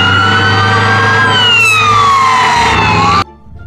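Toy fire truck siren wailing loudly and continuously, its pitch sliding slowly downward before cutting off abruptly near the end.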